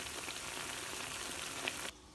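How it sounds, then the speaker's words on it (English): Lamb stir-fries with a steady crackling sizzle in a hot pan, close and continuous, cutting off abruptly near the end. "So it's nicely frying away."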